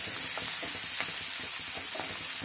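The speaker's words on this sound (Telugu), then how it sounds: "బాగా ఫ్రై చేసుకోవాలి" An egg fries in a hot pan with a steady, close sizzle of bubbling oil and small crackles throughout, and no one speaks.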